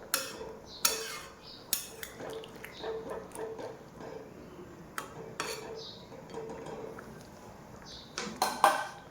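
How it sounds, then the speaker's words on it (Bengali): Chicken pieces are stirred with hot water in a metal pot, a spoon clinking and scraping against the sides in irregular, fairly close knocks, with quieter stirring noise between them. "এরপর আমি ভালোভাবে চিকেনটাকে মিশিয়ে নিচ্ছি জলের সাথে।"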